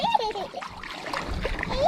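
Hand splashing and paddling in water beside a kayak on a bass-fishing trip, short irregular splashes close by, with a person talking over them.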